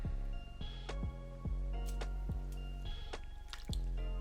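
Water dripping and splashing in quick, uneven plops as a wig lace frontal is dipped into a container of water, close and fairly quiet, with no talk.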